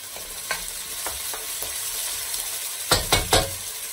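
Chicken pieces for chicken tikka masala browning in a pan, a steady soft sizzle with scattered utensil scrapes and a few louder clattering stirs near the end, close up and without talk.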